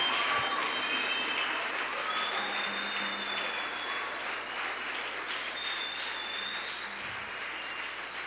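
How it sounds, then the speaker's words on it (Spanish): Sustained applause from a church congregation during a Spanish-language service, a broad wash of clapping at moderate level that holds steady throughout with a slight easing toward the end. "Ese aplauso tiene que ser de rompimiento"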